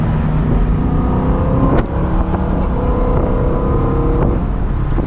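A 2011 BMW E93 M3's engine roars loudly and steadily from close by at the front, a deep continuous rumble with a few faint clicks.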